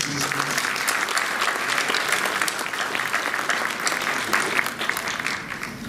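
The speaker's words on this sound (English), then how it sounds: "let's start the evening by giving yourselves a round of applause." A full audience at an evening anniversary event in Los Angeles breaks into a sustained round of applause, dense and steady throughout with a slight swell partway through and a faint crowd murmur beneath.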